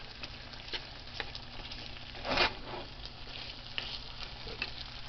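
Cut potatoes fry gently in a pan of extra virgin olive oil and butter, a soft, steady crackle and sizzle heard quietly up close, with one brief louder rustle partway through.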